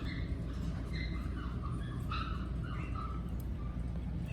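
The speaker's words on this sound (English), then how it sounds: "Here's Aria puppies." Two-week-old F1B toy Cavapoo puppies whimpering and squeaking, with high thin cries repeating in short bursts over a steady low background rumble, heard close by.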